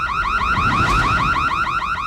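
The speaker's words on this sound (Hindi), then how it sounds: "ये तो चोर अलार्म है" A loud electronic burglar alarm warbles rapidly up and down in a steady repeating cycle, close and continuous with nothing else over it.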